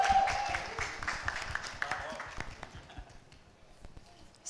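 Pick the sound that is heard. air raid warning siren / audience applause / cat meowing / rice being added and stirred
audience applause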